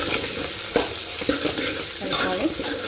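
Ginger garlic paste is stirred into hot frying oil for a spinach and moong dal tempering, with steady close sizzling broken by repeated spoon scrapes and taps against the pan.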